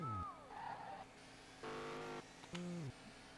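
Engine revs and gear changes from a car launched in second gear in Street Legal Racing Redline, with short bursts of rising revving separated by brief drops, sounding close and fairly loud.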